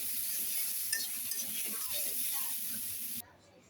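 Jute leaf greens cooked with onion and garlic sizzle in a pan with a steady, hissing crackle, while a utensil scrapes and stirs now and then. The sizzle stops abruptly near the end.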